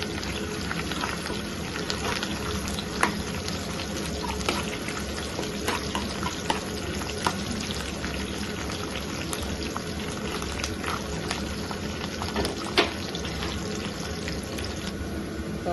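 Curry leaves and garlic crackle and sizzle steadily in hot oil as a tempering for ulava charu, a dense continuous frying hiss with small pops throughout and no talk.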